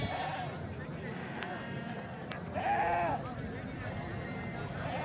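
Fat-tailed dumba sheep bleat at an outdoor livestock market in Fateh Jang, Rawalpindi, with two short bleats, one at the start and a louder one midway, over a busy background of crowd noise and talking.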